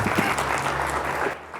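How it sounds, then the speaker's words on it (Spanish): Church congregation applauding together, a steady dense patter of clapping that fills the room for a moment before quickly fading out. "Así que dale otro aplauso a nuestro Rey"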